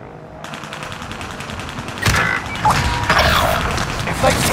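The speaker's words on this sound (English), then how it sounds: "Receiving hostile fire." Gunfire rings out in Call of Duty Warzone Rebirth on Xbox Series X, with sustained mechanical clatter and bursts of automatic shots that grow louder and denser partway through, sounding fairly close.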